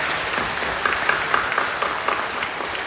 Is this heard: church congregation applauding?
yes